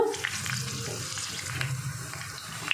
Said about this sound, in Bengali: উল্টে পাল্টে আমি লাল লাল করে ভেজে নেব